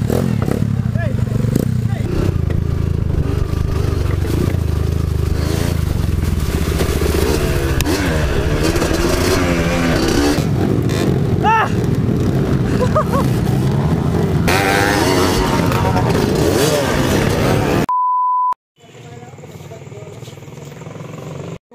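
Trail motorcycle engine running close and loud at a trail race in San Manuel, Pangasinan, a steady rough drone with rising revs, then cut off and followed by a brief tone and quieter sound with a voice talking.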